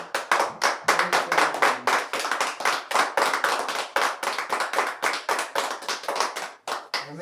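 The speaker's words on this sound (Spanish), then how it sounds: "Dan un aplauso a la palabra." A church congregation claps together in a sustained, dense round of applause, loud and close, with steady rhythmic hand claps and no talk over it.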